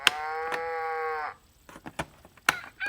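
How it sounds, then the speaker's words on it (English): A VTech Learning Walker toy plays an electronic cow moo, one long buzzy low call lasting just over a second, followed by soft clicks and handling sounds. "if I press this cow, it makes it moo"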